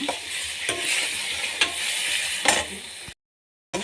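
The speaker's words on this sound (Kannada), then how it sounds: "ಅದನ್ನು ಎಲ್ಲವನ್ನು ಮಿಕ್ಸ್ ಮಾಡಿ ಫ್ರೈ ಮಾಡಿಕೊಳ್ಳೋಣ" Tomato, capsicum and onion frying together in a pan for bisi bele bath, a continuous moderate sizzle broken by several sharp stirring scrapes, then a brief silence before the sizzle resumes.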